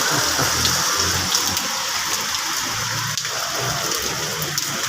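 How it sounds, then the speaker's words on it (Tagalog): Steady heavy rain pours down, a dense continuous hiss of water with no voices. "Ayaw na tumigil ang ulan"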